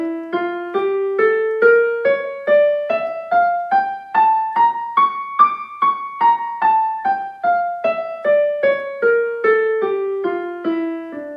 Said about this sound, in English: now if we play the harmonic minor